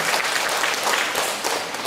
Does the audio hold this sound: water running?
no